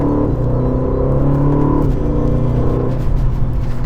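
An Aston Martin DB12 on Michelin Pilot Sport 5S tires pulls hard up to about 80 mph, its engine note a steady, loud rumble and whir from inside the cabin with no talk.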